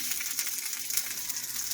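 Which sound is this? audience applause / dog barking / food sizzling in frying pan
food sizzling in frying pan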